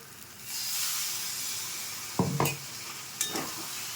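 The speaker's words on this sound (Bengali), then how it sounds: "বাঁধাকপিটা দিয়ে দিয়েছি এবার একটু মিশিয়ে নেব একটু জল দিয়ে দেব" Cabbage stirred into spices in a pan with a little water, giving a steady soft hiss and sizzle with a few louder scraping stirs near the end.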